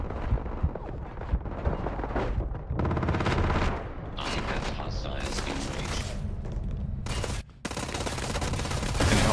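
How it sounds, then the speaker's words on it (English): Chaotic video-game explosions on the moon blasting thousands of spawned soccer balls around, a dense continuous barrage of booms and crackling bursts with a brief drop-out near the end. "The explosions knocked the soccer balls around."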